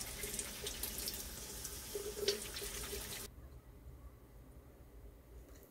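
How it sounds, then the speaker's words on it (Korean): Tap water runs onto fabric in a sink for about three seconds, a steady close splash and hiss, then cuts off to quiet dripping and low room sound. "왜 안 되죠? 물로 빨아봤어요."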